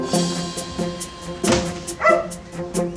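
A dog gives several short, yappy barks in quick succession, fairly close, over a busy background with a faint steady musical hum.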